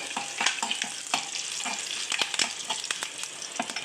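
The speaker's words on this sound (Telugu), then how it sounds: "ఈ చాతాలింపు ఇలాగ వేసేసుకునండి" Tempering spices crackle and sizzle in hot oil for tomato rasam, with busy popping bursts and stirring scrapes close by and no talking.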